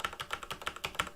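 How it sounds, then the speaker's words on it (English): Rapid, even keystrokes on a Corsair K63 mechanical keyboard, a close clacking run of about seven presses in just over a second, with no speech. "let me pick up that typing ASMR."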